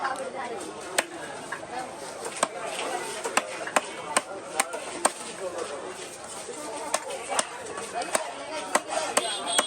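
A knife chops through fish on a cutting board in sharp, irregular knocks, roughly one every half second or so, ringing out clearly over steady background chatter and people talking.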